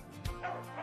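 A young female dog at an animal shelter gives a single short, sharp bark with a slight whimpering edge, close by and fairly quiet.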